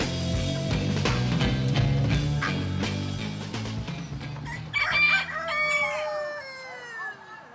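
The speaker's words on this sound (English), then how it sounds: "Are you selling those chickens and all?" Chickens for sale at a swap meet in Kansas, with a rooster crowing loudly several times and hens clucking close by amid outdoor market noise.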